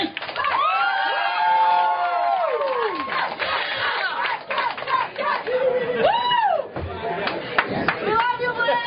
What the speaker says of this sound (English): keep that noise going for the next poet in the second round